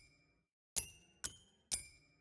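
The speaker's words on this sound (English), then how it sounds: "it's a black bear with symbols, which sounds like this." Three bright metallic cymbal clashes from a toy black bear sample, evenly spaced, each ringing briefly and fading. The first comes after a short hush.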